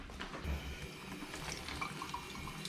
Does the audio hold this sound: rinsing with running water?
yes